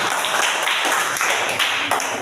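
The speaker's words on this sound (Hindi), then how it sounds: "रिया के लिए भी जोरदार ताली" Loud group clapping for a young girl named Riya during a school visit. Dense, continuous applause from many hands runs throughout at close range, with no talking.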